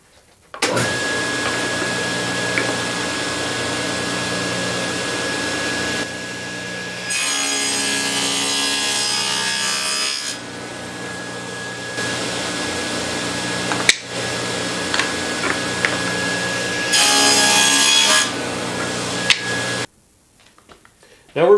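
Pieces of wood for small computer speakers, tops and bottoms, are fed one after another through a cutting machine. A steady motor drone rises into louder, harsher cutting passes at intervals, broken by a few sharp knocks, and everything stops just before the end.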